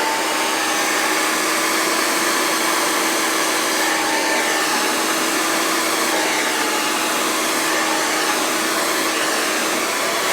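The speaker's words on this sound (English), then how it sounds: "we're going to blow dry him to hell and make sure he's straightened" A hair dryer blows steadily and loudly at close range while a man's medium-length hair is dried and straightened. The whir is continuous and unbroken for the whole stretch, with no voices.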